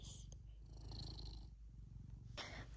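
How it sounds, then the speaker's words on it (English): A cat purrs up close, a soft, steady rhythmic rumble that continues without pause and with no voices. "I like to capture Gaia's purr."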